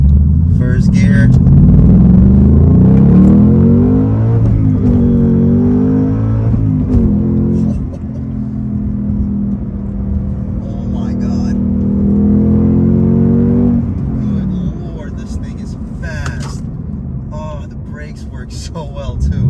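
A 2022 Ford Mustang Mach-1 with the Handling Pack accelerates hard through gears, its V8 exhaust rising and falling in loud rumbling pulls under someone talking over it.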